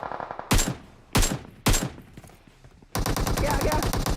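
Gunfire in the PUBG Mobile battle royale game: three sharp single shots spaced about half a second apart, each with a decaying tail, then a dense rapid burst of automatic fire that runs to the end.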